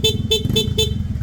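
A PIA auto-style horn fitted to a Honda Click scooter sounds four quick, loud, nasal toots in rapid succession over a steady idling engine.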